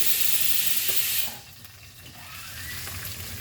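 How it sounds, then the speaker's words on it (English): Onion sautéing in a teaspoon of oil in a pan for Goan pork sausages, a loud hiss and sizzle that drops suddenly to a softer, steady crackle. "But I am adding 1 teaspoon of oil, and now I will saute this onion."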